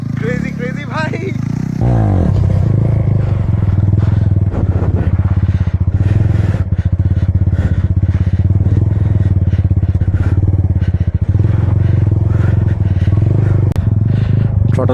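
Offroad motorcycle engine revving hard during a stunt session, a loud continuous throaty drone with rising and falling throttle and some clatter, close to the microphone, with people talking over it.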